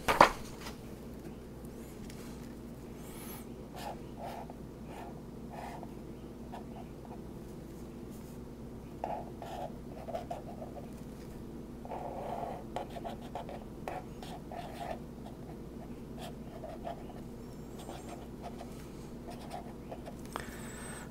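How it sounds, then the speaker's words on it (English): A pen scratches out a circuit diagram on a clean sheet of paper, with faint, irregular strokes and taps continuing over a low steady hum, no talking. "I'll redraw that on a clean sheet of paper here"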